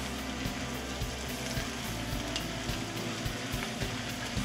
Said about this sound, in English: And you're going to saute them,